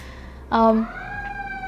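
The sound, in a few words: emergency vehicle siren, ambulance or police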